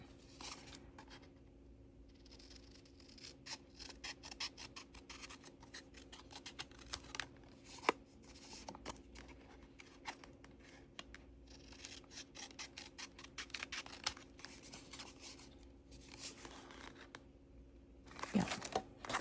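Scissors snip paper for a collage in a quiet room, a long run of small dry cuts and rustles at close range, with a sharper crunch near the end.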